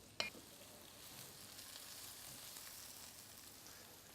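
Fennel and shallots sizzling gently in olive oil in a pan as they are stirred, a soft, steady hiss with a brief clink of the utensil at the start, faint and close.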